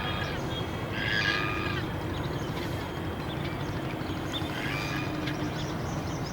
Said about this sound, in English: You can see the crowd, the big crowd of birds.